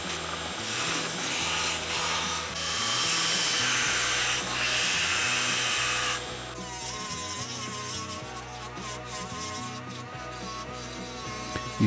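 A small rotary tool grinds away imperfections on a replica part, a loud, steady high-speed whine with a harsh grinding edge that drops to a lower, lighter buzz partway through and runs on with clicking texture.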